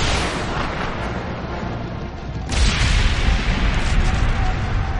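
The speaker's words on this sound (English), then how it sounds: "The explosion started a huge avalanche." A loud, rumbling boom as a cannon fires at a mountaintop and sets off an avalanche in the story of Mulan, followed by a sustained thundering roar of snow.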